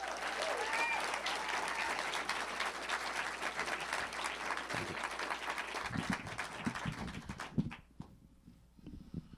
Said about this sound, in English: Give it up for Mr. Toy Savage. Clap for Toy.